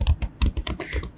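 Computer keyboard typing a layer name in Photoshop, a quick run of about eight close, crisp key taps in an uneven rhythm.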